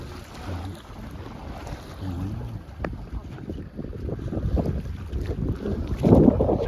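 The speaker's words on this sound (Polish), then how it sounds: "dzisiaj nam trochę wieje, ale mamy pełne żagle" Steady wind rushes past the microphone while a sailboat moves under full sail on Lake Śniardwy, with water and hull noise building toward a louder gust at the end; no one speaks.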